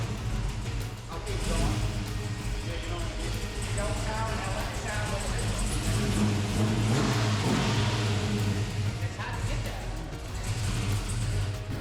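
A supercharged LS V8 swapped into a 1969 Dodge Super Bee revs in a steady, loud rumble that fills the scene, with people talking over it throughout.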